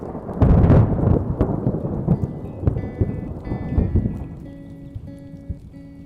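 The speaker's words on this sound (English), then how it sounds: "But when it rains, it rains." A heavy thunderstorm over dry, barren land in Lesotho: a loud thunder crack opens, then rain pours steadily with further rumbles, and soft tonal music fades in toward the end.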